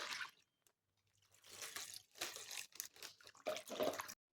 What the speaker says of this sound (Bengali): সবজিগুলো কাটা হয়ে গেছে, এগুলো আমি পরিষ্কার করে ধুয়ে নেব।